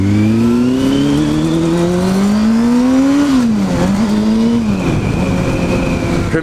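A car accelerating hard through town, loud and close, engine pitch climbing steadily through the revs, dropping briefly at a gear change, then rising again, with no voices over it.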